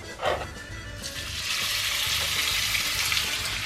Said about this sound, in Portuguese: É gostoso que o bacon fica bem crocantinho, então frita ele bem.